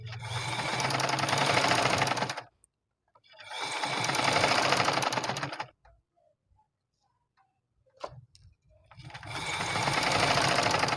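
A sewing machine stitches along buckram at the neckline of a kameez, running in three steady bursts of fast rhythmic whirring separated by quiet pauses, close and clear, with no talking.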